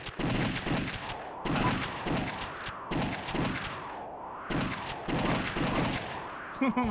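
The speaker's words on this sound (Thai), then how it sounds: "เราจะยิงแบบจอห์นฟิก" Gunfire in the arcade shooter The House of the Dead comes in rapid repeated bursts with short pauses between volleys, loud and close, with someone talking in between.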